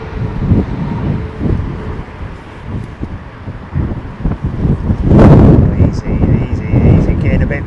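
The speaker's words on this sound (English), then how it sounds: "getting a bit breezy out there" Strong gusts of storm wind buffet the microphone at Heathrow Airport, loud rumbling bursts that swell and surge, peaking in a heavy blast near the end.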